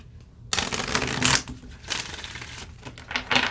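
Soul's Journey Oracle cards being shuffled by hand in several quick, close rustling bursts that riffle and slap, with short pauses between handfuls.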